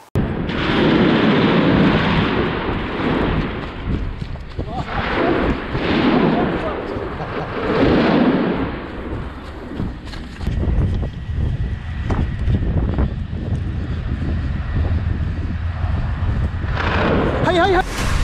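Heavy bursts of explosions and gunfire from fighting in the Israel-Hamas war, with Israeli tanks exploding, boom and crackle across a long stretch, with shouting voices and wind buffeting the microphone throughout.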